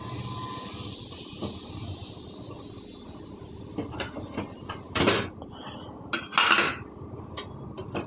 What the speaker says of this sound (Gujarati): પહેલાં આપણે ગેસ ચાલુ કરી અને પેન મૂકશું.